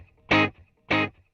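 Through a delay pedal with feedback at half, a short electric guitar note sounds, then one equally strong repeat about half a second later, with faint trailing echoes fading after each.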